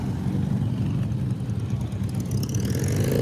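A classic car's engine rumbles at a car show in Ascot, WA, a steady, loud, close low growl that holds throughout, with a faint higher whine rising near the end.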